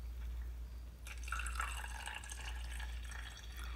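Water poured into shampoo while making slime: a low hum, then a soft close trickle and splashing of liquid that starts suddenly and continues.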